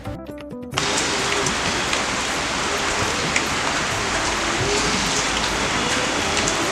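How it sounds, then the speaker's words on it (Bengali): Steady rain falling outdoors, a dense, even hiss of drops on surfaces that starts abruptly after a brief moment of other sound and continues unbroken at moderate loudness, with no voices. "বৃষ্টি পড়লে তো ভালোই লাগে, কিন্তু যারা বাইরে কাজে যায় তাদের একটু সমস্যাটা হয়ে যায়।"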